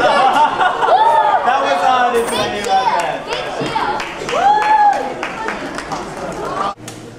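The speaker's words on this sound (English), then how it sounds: "a round of applause for them" An audience at a university charity face-painting event claps in a busy hall, with cheering voices, chatter and laughter rising over the applause throughout.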